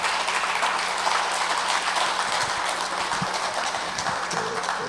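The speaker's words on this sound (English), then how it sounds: "clap it up for these panels that we just had" Audience applause at a returning citizens summit, a steady broad wash of clapping from a crowd filling the whole stretch at moderate level with no talk over it.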